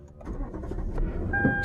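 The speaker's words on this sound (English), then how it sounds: "start the car up," A car engine cranks and catches, a short starter whir rising into a steady idle, heard from close by in a quiet cabin, with a thin electronic beep tone near the end.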